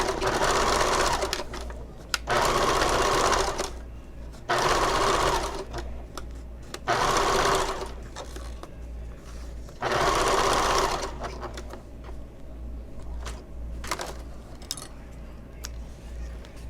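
A sewing machine topstitching bag pieces runs in several loud bursts of steady whirring, separated by short pauses, with quieter handling sounds in between.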